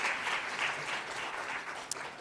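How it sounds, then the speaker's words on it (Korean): A church congregation at Sunday worship applauds warmly to welcome back an elder returned from Korea, steady dense clapping filling the room at moderate, slightly distant volume. "우리 뜨거운 박수로 환영하겠습니다"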